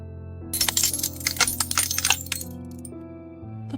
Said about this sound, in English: The black glass table cracked down the middle.